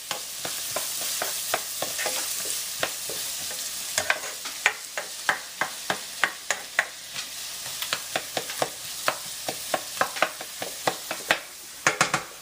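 Sizzling sauté for a Fra Diavolo sauce base, with steady frying hiss broken by frequent sharp stirring clicks and scrapes of the pan, close and busy, no talking.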